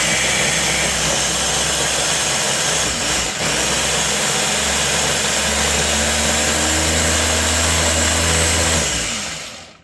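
A food processor spins basil, pine nuts and garlic into pesto, a loud steady motor whir up close that runs without a break and winds down at the end.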